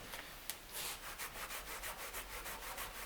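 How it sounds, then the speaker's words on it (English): A strip is rubbed back and forth over leather for a dog collar, a soft rhythmic scuffing stroke repeated steadily at close range in a quiet room, with no talk. "and rub that over our leather"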